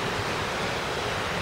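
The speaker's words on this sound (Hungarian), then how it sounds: "És folyócska és patakocska," A small river or brook flows in Suhl, heard as a dense, steady broadband rush of water, close and unbroken, with no voices.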